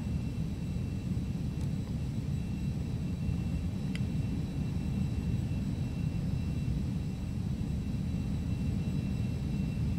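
A steady, loud jet engine roar from a Carenado Citation 525A corporate jet in the Prepar3D flight simulator, a constant low rumble and a faint high whine, continuous throughout with no talking.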